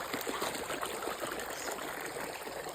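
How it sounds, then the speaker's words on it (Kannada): Water trickles steadily through a poorly built, leaking check dam at Narasimhanahalli, a continuous faint burble with no voices. "ನೀರು ಈ ಥರನೇ ಹೆಚ್ಚು ಕಮ್ಮಿ ಒಂದು 5 ಇಂಚು ನೀರು ಹೋಗ್ತಾನೆ ಇರುತ್ತೆ"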